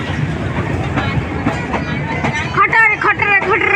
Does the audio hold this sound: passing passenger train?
yes